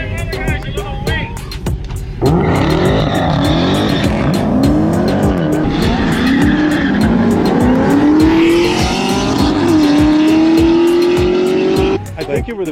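A race car roars past at high speed, its engine note climbing steadily and loudly for about ten seconds before cutting away, with faint background noise before and after.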